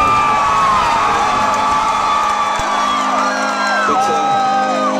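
Concert audience at a show at Club Nokia cheering, whooping and shouting in a dense, sustained roar, loud and continuous across the whole stretch with scattered high yells rising above it.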